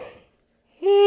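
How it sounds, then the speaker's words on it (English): A single voiced yawn swells in abruptly after a brief hush, holding a loud, steady, drawn-out tone close to the microphone; some quieter breathy sound fades away before it. "I'm going to yawn."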